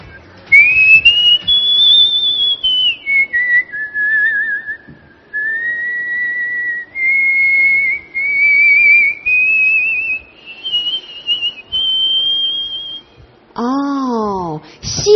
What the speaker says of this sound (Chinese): 我在吸气的时候也是在吹口哨。